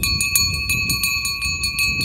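A memorial bell ringing in a village courtyard, struck in a steady series of about a dozen bright strokes with sustained ringing tones, over a low background rumble.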